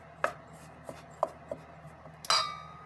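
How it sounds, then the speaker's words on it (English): Tortilla dough being worked in a bowl with a utensil, giving a few sparse scraping knocks and clinks against the bowl, then a louder scrape near the end, close and quiet with no talk. "So I'm going to mix it until it starts to get crumbly like this."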